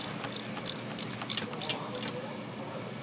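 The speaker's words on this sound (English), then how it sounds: "snug it down with your 3/8 ratchet and you'll feel a definite stop" A 3/8 ratchet tightening a fuel injector bolt on a 6.0L Powerstroke diesel gives a quiet run of even, rapid clicks, fading out near the end.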